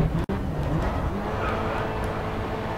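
Race car drifting in the game Grid Autosport, a loud, continuous engine roar with tire noise and a sharp click near the start, close and steady.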